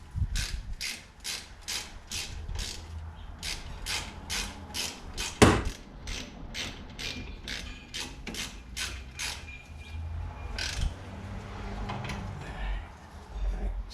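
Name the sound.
ratchet hand tool tightening Mazda 3 brake bolts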